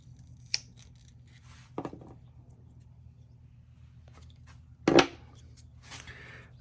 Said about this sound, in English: hose cutters right here.